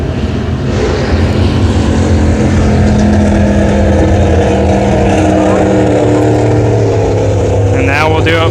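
Race car number 20, a Pro Late Model at Brownstown Speedway, passes with a loud, sustained engine roar that holds steady throughout, its pitch shifting slightly near the end.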